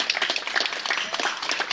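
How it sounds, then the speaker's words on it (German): Indoor audience at a tenants' meeting opposing the A100 motorway extension and gentrification, giving a short burst of brisk, dense hand clapping close by. "das ist ein Applaus wert"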